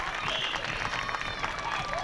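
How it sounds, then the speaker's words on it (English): An audience at the Mascot Hall of Fame induction ceremony in Whiting, Indiana claps steadily throughout, a dense wash of hands with some crowd voices and whistles mixed in. "Let's have a round of applause."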